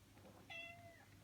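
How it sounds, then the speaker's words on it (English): A house cat lets out a single clear, drawn-out meow that rises and then slides down, fairly close but soft, over a quiet indoor room tone with no talk. "That's my cat."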